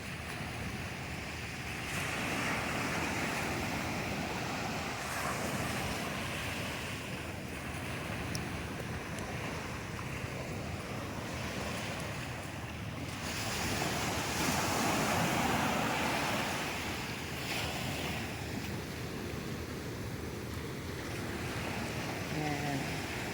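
Sea waves washing onto the beach at Infanta, Quezon, a steady broad roar of surf with wind buffeting the microphone, swelling slightly in the middle and continuing without pause.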